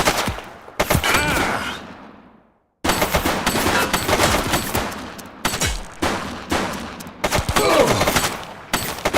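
Gunfire in the police video game The Precinct: loud, dense bursts of rapid automatic shots and fusillades nearly filling the stretch, broken by a brief silent gap and several short pauses.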